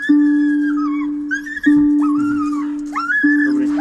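A dog whimpers and howls close by, long wavering cries rising and falling in pitch over a steady low hum, with no talking.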